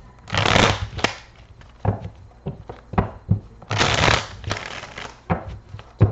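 Tarot cards shuffled in two long riffling bursts, each followed by sharp taps and snaps as the deck is squared, close and fairly loud.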